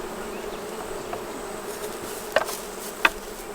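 Honey bees hum around a hive in a dense, steady buzz close by, with a couple of brief louder bumps or clicks breaking through the drone.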